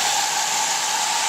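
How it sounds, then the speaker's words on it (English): A hair dryer blows steadily with a loud, even whoosh and a constant whine, running without pause close to the listener. "now I have the hair dryer, and I'm going to turn that on"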